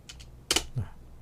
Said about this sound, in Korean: 더블 클릭, 스페이스바, 더블 클릭, 스페이스바